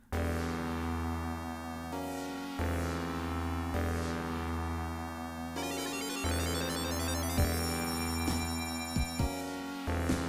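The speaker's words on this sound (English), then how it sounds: "this is Big Arms. This is the final boss from Sonic 3." Sonic 3's Big Arms final boss theme plays loudly: a driving, layered video game chiptune with a steady pulsing bass line, bright synth melody and several section changes, with no talking over it.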